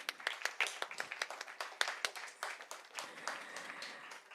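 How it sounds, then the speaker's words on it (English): Audience clapping at a Bharatanatyam dance recital, a close, moderate round of individual hand claps in uneven rhythm that thins out toward the end. "definitely deserves a big round of applause"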